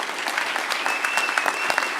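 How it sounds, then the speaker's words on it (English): An audience at a closing ceremony breaks into brisk, sustained applause, a dense wash of clapping hands that fills the room with no gaps. "Give yourselves a round of applause."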